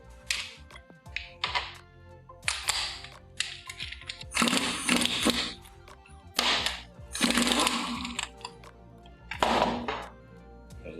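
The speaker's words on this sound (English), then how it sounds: "Use your 1 1/16" socket to remove these adapters." A 1 1/16-inch socket wrench removes the hydraulic adapters from a Hypro 9303C pump. Sharp metallic clicks and ratcheting bursts come in irregular clusters separated by short pauses, close and fairly loud.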